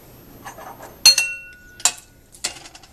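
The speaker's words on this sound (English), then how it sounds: "stir the blackberries up" A metal spoon clinking sharply against a pot while stirring blackberries with sugar, three distinct ringing strikes about a second apart over soft, faint stirring, with no talking.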